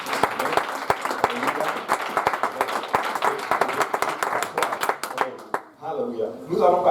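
A church congregation at an evening service claps and cheers in praise, a dense burst of many hands with sharp individual claps, close and loud, fading out as a voice begins speaking near the end.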